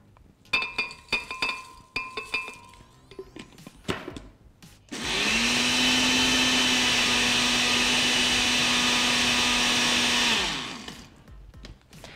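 A blender grinds granola at close range. A few clinks and taps come first, then the motor roars loud and steady for about five seconds before winding down.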